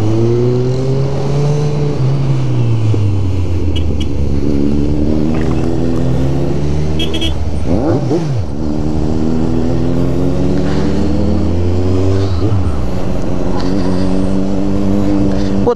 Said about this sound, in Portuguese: Essa acelerando ali é foda